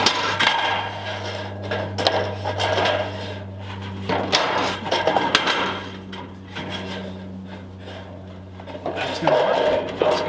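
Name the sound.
hammering nails into roofing on a woodshed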